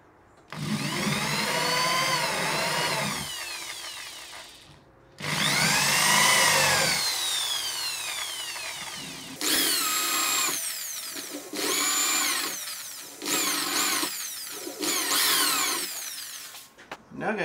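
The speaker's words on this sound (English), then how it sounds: "drill through the holes in the bridge to make indentations in the guitar" Power drill boring indentations through the bridge pin holes into an acoustic guitar body, several loud whirring bursts that rise and fall in pitch, separated by short pauses, close to the listener.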